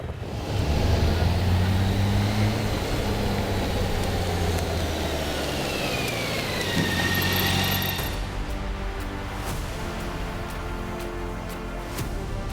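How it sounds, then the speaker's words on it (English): The 1649cc inline six-cylinder engine of a 2022 BMW K 1600 B motorcycle running on the move: a loud, smooth, continuous drone blended with wind rush, easing slightly toward the end, no talking. "It's got this fantastic 6-cylinder engine"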